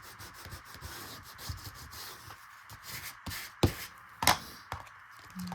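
Paper edges of a small handmade mini folio are burnished with rapid dry rubbing and scraping strokes, close and quiet, broken by a few sharper taps and scuffs.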